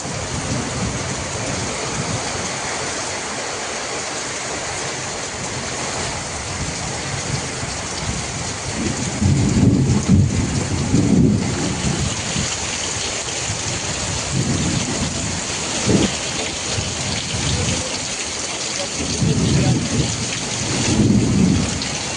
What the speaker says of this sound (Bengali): এত বৃষ্টি হচ্ছে কিন্তু খুব জোরে হচ্ছে আর সঙ্গে মেঘও গর্জন করছে খুব